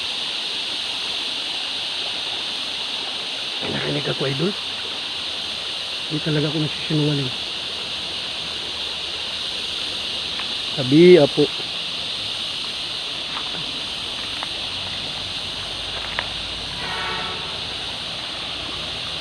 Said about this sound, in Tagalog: Sapa, idol, ang linaw-linaw ng